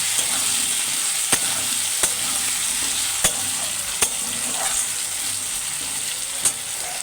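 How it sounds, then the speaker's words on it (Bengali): Potatoes fry in a pan for a soy chunk and potato curry, a steady broadband sizzle running throughout, punctuated by several sharp scrapes and knocks as they are stirred at close range. "দেখো আলুটা কি সুন্দর একটু ভাজা হয়ে গেছে।"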